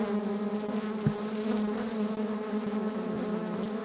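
Honey bees buzzing at the hive entrance, a dense steady hum of many insects close by with a few louder passes, no talking.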